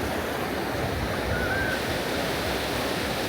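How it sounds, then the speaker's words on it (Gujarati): Sea waves wash over feet at the water's edge on a Goa beach, a close, continuous rushing surge with a steady level and no talk. "જો અહીંયા મસ્ત પાણી ધડે ધડે જાય પગના"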